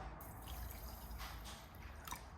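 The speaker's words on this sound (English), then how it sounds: "And then we're just going to add a cup of water." A cup of water pours steadily into a bowl for a couple of seconds, a soft continuous splashing trickle heard up close.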